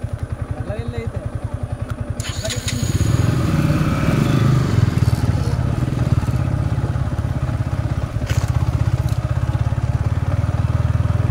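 Yamaha MT-15 motorcycle riding over a rough road, its engine drone loud and steady close by, rising and thickening after the first couple of seconds with rattling bumps throughout.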